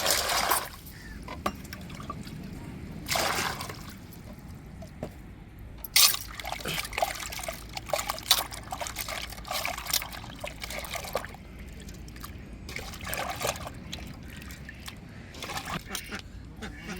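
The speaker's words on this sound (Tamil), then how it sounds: "இப்போ நல்ல தண்ணியை ஊற்றி நல்லா மீனை அலசி எடுத்துக்கிடுவோம்." Water is poured over fish to rinse them while preparing a fish curry, with trickling and splashing running through, loud bursts interspersed with quieter dribbling and some handling noise.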